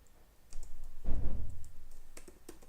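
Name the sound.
typing code on a computer keyboard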